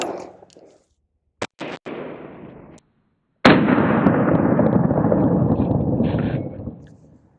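A Glock 19M fires a single loud 9mm 125 grain shot into a ceramic armor plate, a sharp close blast followed by a long decaying boom.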